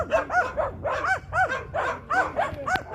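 A small, nervous young dog gives a run of rapid, high yappy barks, close and loud, repeating in quick bursts.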